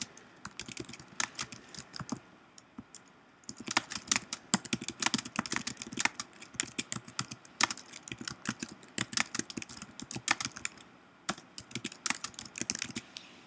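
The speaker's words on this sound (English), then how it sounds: "So if I just kept typing" Typing on a computer keyboard while editing web content, a steady run of close, crisp key clicks in uneven bursts with short pauses, no voices.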